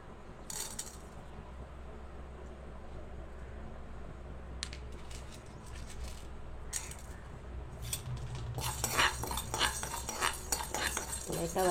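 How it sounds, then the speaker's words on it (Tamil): Toor dal dry-roasting in a kadai on the stove, stirred with a metal spoon, giving soft scraping, intermittent clinks against the pan, and a denser rattling flurry of lentils near the end. "ஒரு கடாயை அடுப்பில் வச்சு இதை துவரம்பருப்பை போட்டுருங்க."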